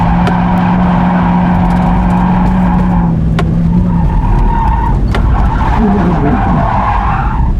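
A project car spins and skids on a race track, its tires squealing loudly over a straining engine that drops and then climbs again, with sharp screeches continuing throughout.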